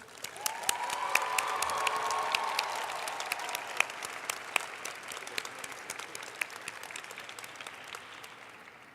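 A crowd applauds student research teams at a school science closing ceremony, dense clapping swelling early then thinning into scattered individual claps, with a faint sustained tone near the start.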